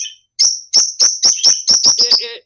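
Bright, clear bird chirps repeat in a steady rhythm of about nine quick notes, close and loud against silence, with no voices.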